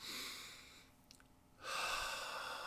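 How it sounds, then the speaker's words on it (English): Two slow, deep breaths during a meditation: a long airy inhale, a quiet pause, then a strong exhale, close and soft. "Take some deep breaths in."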